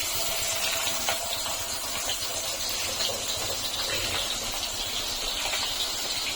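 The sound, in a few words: fish frying in a pan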